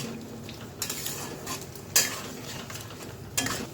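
A spoon stirs turmeric and Kashmiri chilli powder in a pan for dhokar dalna, giving a soft steady frying hiss broken by three sharper metallic scrapes and clinks close by.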